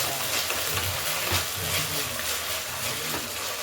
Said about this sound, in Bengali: আদা রসুনের পেস্ট দিয়ে দিলাম, দিয়ে মশলাটা কষে নিতে হবে